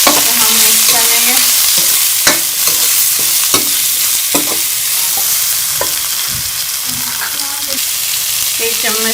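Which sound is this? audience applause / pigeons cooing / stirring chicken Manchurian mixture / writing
stirring chicken Manchurian mixture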